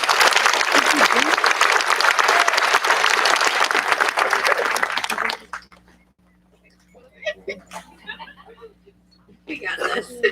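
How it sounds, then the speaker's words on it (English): Audience applause at an eighth grade promotion ceremony, a dense sustained clapping that stops abruptly about halfway, followed by scattered quiet room noise and a brief burst of voices and claps near the end. "Let's give them one more round of applause."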